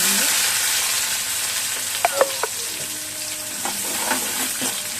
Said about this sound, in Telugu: ఇప్పుడైతే ఆనియన్స్ వేస్తున్నాం